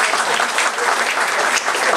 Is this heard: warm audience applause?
yes